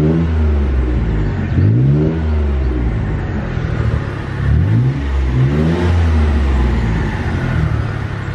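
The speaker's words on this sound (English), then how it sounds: "We'll do a couple quick revs, make sure it is warmed up." A warmed-up car engine idles with a steady rumble and then takes a couple of quick revs, each rising sharply and falling back. The sound is loud and close, with no talking.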